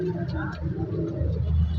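Pigeons coo low and throaty at a market in Shahdara, a soft rolling murmur that stays close and continuous over faint background noise.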